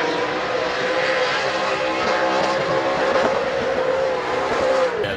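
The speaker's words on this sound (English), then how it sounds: "you could plug in a little clip there of like 30 seconds of limiter" A 454 LSX block drift car engine, bored out to 440 cubic inches, holds hard against its rev limiter in a loud, sustained, buzzing roar that barely wavers for several seconds.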